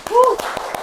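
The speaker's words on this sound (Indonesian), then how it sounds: "Tepuk tangannya dong." A few sharp handclaps ring out in a small podcast studio during an Indonesian talk show about the vape industry, spaced evenly while a voice carries on over them.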